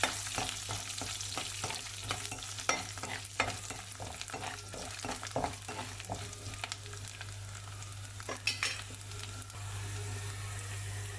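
Garlic cloves and fenugreek sautéing in hot oil in a pan, a steady close sizzle broken by repeated scraping stirs of a spoon, with no voices.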